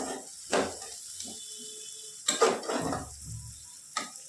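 A spatula stirs onions fried golden with turmeric for chicken curry in a pan, giving a few distinct scraping and sizzling bursts separated by quieter gaps, close and fairly soft.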